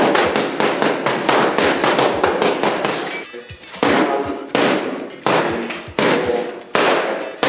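Wooden training sticks clack sharply in a martial-arts drill, a rapid run of close, crisp strikes followed by slower, evenly spaced hits.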